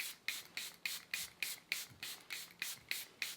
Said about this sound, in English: I'm just gonna go ahead and add my One Size Powder Melt Setting Spray.